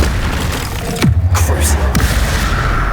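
A deep boom from a blast spell cast in Hogwarts Legacy lands about a second in, followed by a low rumble and a few smaller bursts of spell effects.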